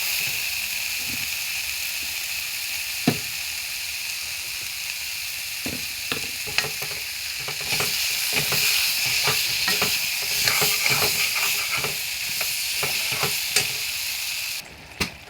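Ground spice paste with salt is sautéed in a pan for an egg and potato curry, a loud, close, continuous sizzle with scattered scraping stir strokes that thicken midway.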